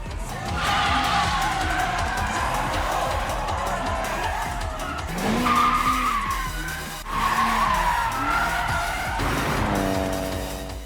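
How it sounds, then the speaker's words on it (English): Two cars in a tandem drift send out long, loud, wavering tire squeals over revving engines, the screeching dipping briefly and then surging again, with a faint crowd in the background. "Then the Takahashi brothers perform a tandem drift."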